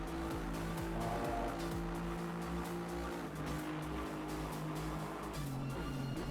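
Several race car engines from a racing video game, at Spa 24 Hours, whine and drone together, pitches rising and falling as they jostle, with brief tire squeals, steady and fairly loud.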